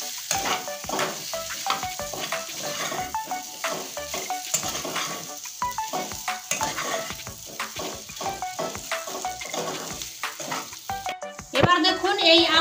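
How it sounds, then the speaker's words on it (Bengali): Potatoes fry in a pan with a continuous close sizzle, broken by frequent scraping and clattering strokes of a spatula stirring them, loud and busy throughout, with a sharper clank near the end. "এই আলুটা সুন্দর করে একদম ভেজে নেব"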